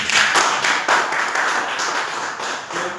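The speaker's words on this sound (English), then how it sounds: "I want everyone to give an applause to him." An audience claps for a speaker after an icebreaker speech, a short burst of scattered hand claps from a modest group, close and moderately loud, fading slightly toward the end.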